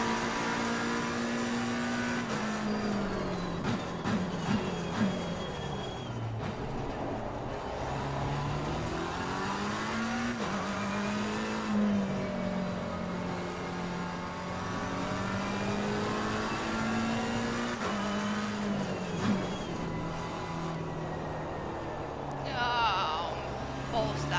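A race car engine in a sim racing game drones and revs through a quicker lap, its pitch rising and falling with gear changes and corners, steady and loud throughout, with a voice speaking over it.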